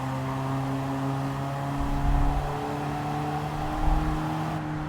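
Engine of a light Abarth car in Gran Turismo 7 on the Nurburgring, a steady buzzing drone with brief swells of revving, heard alone.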